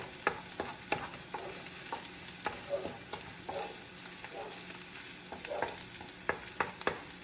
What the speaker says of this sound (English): Stir these around just a little bit so that they don't burn.